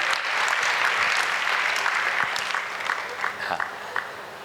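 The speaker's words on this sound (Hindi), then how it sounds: "जोरदार ताली बजाओ, ताली में कंजूसी कर रहे हो आप लोग।" A gathering at a Jain religious discourse claps loudly, the dense applause strongest at the start and then thinning into scattered individual claps as it fades.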